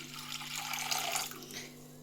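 Water runs briefly from a tap into a pot for boiling sweet corn, a short close splashing stream over a steady low hum.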